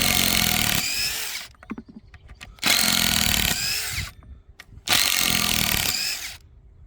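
A power drill or driver backs screws out of baobab wood close up, three long loud whining bursts with brief pauses between them filled with clicks and handling noise.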